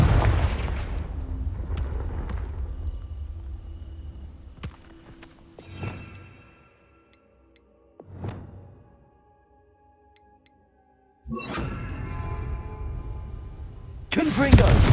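Confringo fire-spell blasts from Hogwarts Legacy combat: several sharp, booming bursts scattered across the stretch with quieter gaps between, ending in a loud dense blast.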